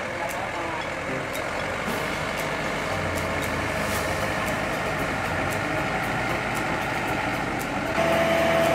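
A truck engine idles steadily at close range during tree planting at a Depok townhouse site, a continuous low rumble with faint crowd voices and a slight rise in level near the end.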